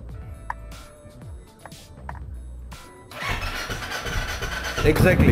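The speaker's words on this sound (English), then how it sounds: "if I am pressing the clutch and if the bike is starting" A motorcycle with a self-start problem cranks and catches, its engine rising to a loud close running note after a few seconds of quiet clicks and handling sounds, with someone speaking briefly.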